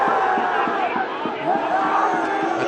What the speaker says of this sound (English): the reason you're hearing the crowd reaction is that the replays that you are seeing at home, the crowd is seeing here too